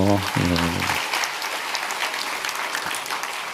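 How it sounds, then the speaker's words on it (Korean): Congregation applauding during a Sunday morning Korean church worship service, a dense broadband clapping that starts right after a brief spoken phrase and continues steadily at a moderate level. "우리 격려와 축복의 박수 해주십시오"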